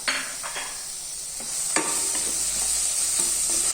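Mint leaves and slit green chili sizzle in hot oil for an egg curry, a steady close frying hiss with a few light stirring scrapes.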